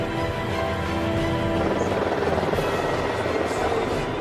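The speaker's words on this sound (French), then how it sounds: "Les pilotes mettent les gaz." A large twin-engine Airbus A350 airliner at the start of its takeoff run throttles up into a loud, steady, broadband roar with a rising whine, continuous throughout and close by.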